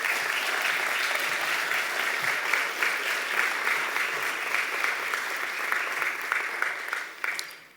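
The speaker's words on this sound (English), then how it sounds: "let's give all of them a round of applause" An audience at an alumni awards ceremony claps in a sustained round of applause, steady and fairly dense, tapering off at the end.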